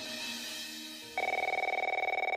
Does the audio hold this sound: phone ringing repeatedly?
yes